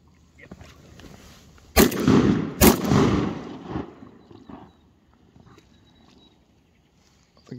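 Two loud shotgun blasts go off in quick succession during a duck hunt outdoors, each ringing out and fading, with faint rustling before and quiet after.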